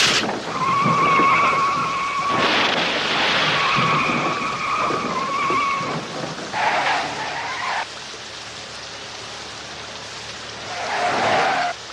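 A car skids in with several long, loud tire squeals, each ending abruptly, followed by a final shorter screech, heard close with no talk.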